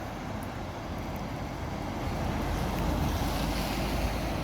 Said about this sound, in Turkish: Şu anda şelale sesi geliyor